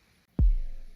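A single stock kick drum sample from Logic Pro's Drum Synth hits once after a brief silence, a deep, punchy thump that decays over a fraction of a second.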